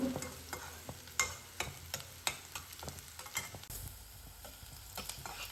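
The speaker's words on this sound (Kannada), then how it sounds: "ಉಳ್ಳಾಗಡ್ಡಿ ಫ್ರೈ ಆಗೈತಿ." Onions frying in a pan for prawn curry, a soft close sizzle punctuated by frequent quick scraping stirs of a spatula, quiet and without voices.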